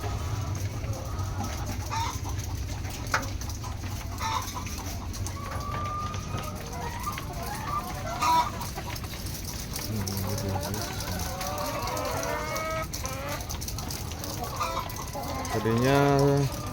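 Aging laying hens cluck and squawk in a coop, several birds calling on and off at moderate distance while a person talks over them and a fan hums.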